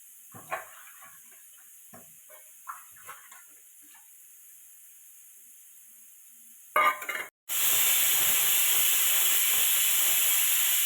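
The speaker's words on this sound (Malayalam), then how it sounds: "അപ്പോൾ നമ്മുടെ കുക്കർ വിസിലൊക്കെ അടിച്ച് കഴിഞ്ഞിട്ടുണ്ട്" A kitchen pressure cooker, cooking cauliflower, sits quietly with faint clicks and ticks, then bursts into a loud, sharp whistle that drops into a sustained hiss of escaping steam.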